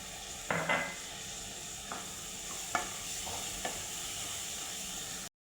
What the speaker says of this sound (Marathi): मसाले आपले फ्राय झालेले आहे आता छोल्याची पेस्ट टाकूया